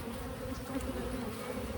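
Honey bees buzzing around hives in the open, a faint, steady swarm drone continuing without a break and with no voices.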